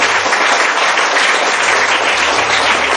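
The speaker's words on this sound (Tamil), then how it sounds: "சோ அந்த டீச்சர்ஸ்க்கு நாங்க எல்லாரும் சேர்ந்து ஒரு பெரிய கைத்தட்டல் ஒன்று கொடுப்போம்" A school audience gives teachers a big round of applause, dense continuous clapping from many hands, loud and close throughout.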